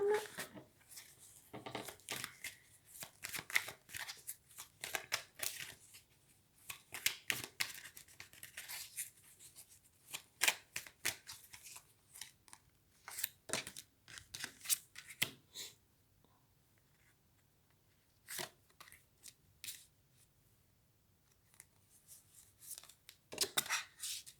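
Tarot cards shuffled by hand during a sentimental card reading, a quiet run of crisp riffling and flicking bursts that come in uneven clusters with short pauses between them.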